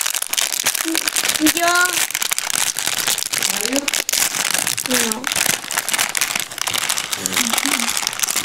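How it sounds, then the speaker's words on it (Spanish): Plastic bags of a model submarine kit being torn open, a dense continuous crinkling and rustling close by, with people talking over it throughout. "Abrimos las bolsas"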